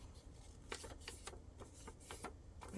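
Scissors snipping paper while making a collage desk placemat, a series of short crisp cuts at close range, quiet and irregular, with no voices.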